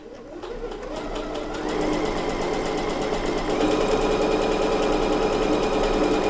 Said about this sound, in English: Here is one of the serpentine stitches.